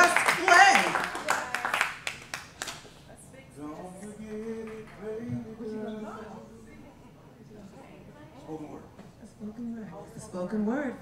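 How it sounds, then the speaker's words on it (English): An open mic audience gives a spoken word performer a burst of applause, loud clapping for the first couple of seconds before it fades out under someone talking. "Round of applause for I am just Clay."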